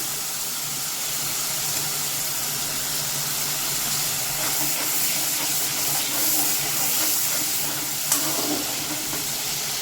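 Spice paste loosened with a little water sizzles steadily in a hot pan while cooking a curd-and-pointed-gourd dish, a continuous close hissing fry with faint clinks and stirring sounds.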